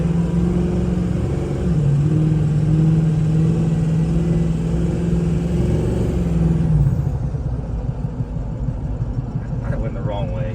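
A budget diesel mud truck built for under $10,000 idles and drives with a steady, loud low engine drone that shifts pitch midway and then settles, while people talk over it.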